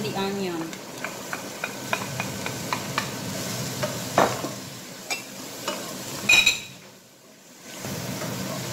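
Onions frying in a pan alongside bacon, sizzling steadily while a utensil stirs and scrapes with repeated light clicks and taps, then a short quieter pause near the end. Close and moderately loud, with no talking.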